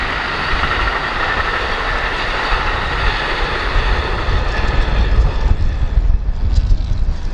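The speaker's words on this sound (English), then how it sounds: "Eastbound Amtrak, Chicago bound." An eastbound Amtrak passenger train bound for Chicago rumbles past outdoors, a broad steady roar of wheels and cars mixed with gusting wind on the microphone, growing slightly heavier toward the end, with no talking.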